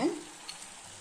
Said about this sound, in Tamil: ஏன்னா பச்சை வாசனை போகிற வரை நல்லா வதக்கிக்கலாம்